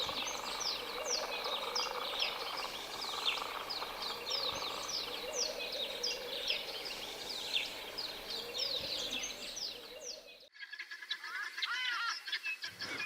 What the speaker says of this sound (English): It also attracts many birds